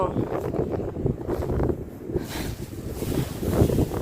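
Dry wind blows in gusts across open rural land, a rough, steady rush of broadband noise buffeting the microphone, with a voice talking briefly over it.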